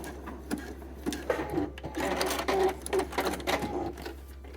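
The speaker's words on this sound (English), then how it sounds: "you can see that elastic is stitched inside" A sewing machine running close up as it stitches elastic into a swimsuit top, a steady low motor whir with bursts of rapid needle clatter that speed up and pause as the fabric is guided.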